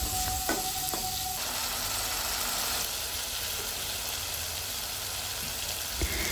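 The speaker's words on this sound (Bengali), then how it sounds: "টমেটো আমরা নেড়ে চেড়ে কষিয়ে নিব যতক্ষণ না টমেটোটা গলে আসে" Chopped tomatoes frying with ginger paste for an egg and potato bhuna, a steady close sizzle with occasional stirring scrapes, no voices.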